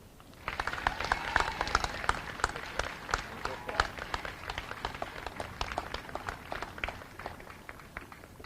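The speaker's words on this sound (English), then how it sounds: "how about a nice round of applause for Tori and Faith." Applause from a crowd at an outdoor March for Our Lives rally in Springfield, steady scattered clapping that runs throughout at moderate loudness with some voices mixed in.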